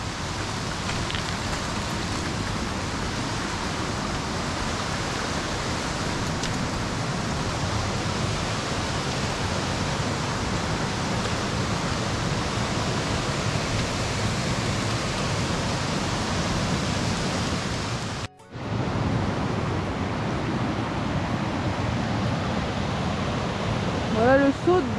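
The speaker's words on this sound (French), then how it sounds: "Ah bah elle est là la cascade." The Saut de Gouloux waterfall in the Morvan, a loud steady broadband rush of falling water that goes on without pause, with a brief dip near the end before the roar resumes.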